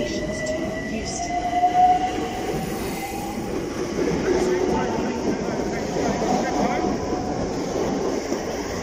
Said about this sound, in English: the Bakerloo line train's going into the depot